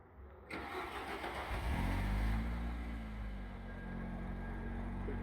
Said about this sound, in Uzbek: Mashina pultdan zavat bo'ladi.